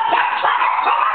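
Dog barks indoors in three or four quick, muffled, yapping barks at close range, with no other sounds around them.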